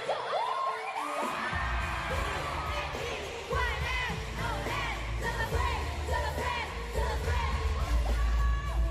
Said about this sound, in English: Listen to the crowd just erupt.